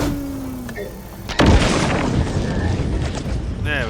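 A grenade explodes in The Outer Worlds 2, one sudden loud boom midway followed by a long rumbling decay, with faint game sounds before it.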